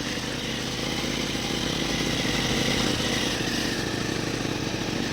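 A motorcycle rides toward Lakuri Bhanjyang, its engine giving a steady, close, continuous drone with a slight swell in the middle and no voices.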